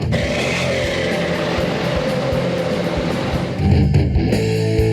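A lifted truck's loud engine revs steadily, then surges louder near the end, with a deep rumbling roar throughout and no talking.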